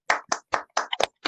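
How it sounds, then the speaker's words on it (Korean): Handclaps from a small audience at a literary award ceremony, a brief run of about seven crisp, separate claps, close and distinct rather than blended into a roar. "박수 부탁합니다."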